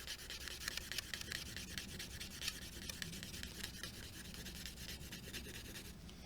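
Drawing of a city reflection being rubbed, a faint, close, continuous scratchy friction of strokes against paper, repeated in quick uneven passes.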